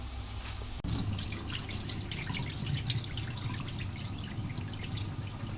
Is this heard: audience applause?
no